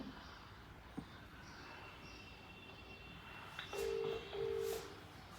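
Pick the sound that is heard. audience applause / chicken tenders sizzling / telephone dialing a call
telephone dialing a call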